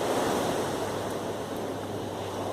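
Sea waves washing steadily onto the shore, a continuous broadband surf roar mixed with wind buffeting the microphone, with no distinct individual breakers.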